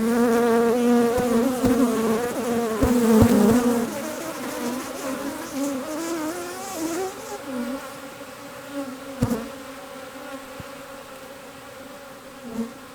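Honey bees buzz steadily inside an Apimaye hive during a colony split, a dense, close, continuous hum with shifting pitch and a few sharp knocks.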